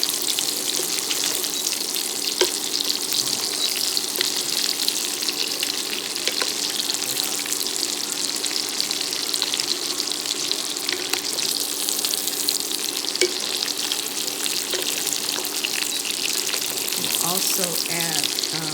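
Salmon and rosemary fry steadily in a pan for a keto dinner, giving a continuous broadband sizzle with faint watery undertones, no talking heard.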